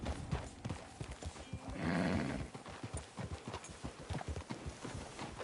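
Hooves of a horse in Red Dead Redemption 2 clip-clop at a steady trot, close and fairly loud, with a brief snort or whinny partway through.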